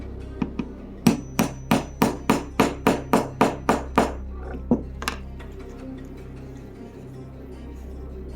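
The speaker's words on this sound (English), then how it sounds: "then we're going to hammer it down" Steady, evenly spaced hammer strikes setting a snap into faux leather, about a dozen sharp metallic taps in quick rhythm, close by, followed by a few scattered lighter knocks.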